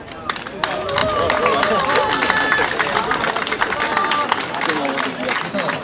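Crowd at an outdoor village celebration for a volunteer fire brigade's anniversary applauding the youth firefighters, steady clapping and murmuring voices throughout, fairly close and dense.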